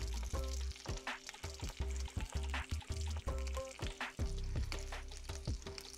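Curry leaves and whole spices (shahjeera, clove, cinnamon and cardamom) sizzle in hot oil for methi chicken, a crackling spatter broken by repeated knocks and clatter, close and moderately quiet.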